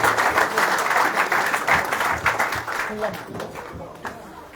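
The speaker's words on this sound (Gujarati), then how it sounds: "તાળીઓથી આપણે તમામ ખેલાડીઓને એના માટે શુક્રગુજાર કરીએ" A crowd at a local tournament final applauds the players, with dense, sustained clapping that gradually thins out, mixed with voices talking.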